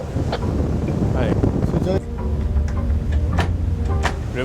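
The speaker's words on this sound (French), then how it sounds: "Le bruit du vent dans les oreilles" Wind gusting across the open deck of a surfaced nuclear submarine, a loud continuous rumbling buffet on the microphone with scattered clicks and knocks and a brief dip midway.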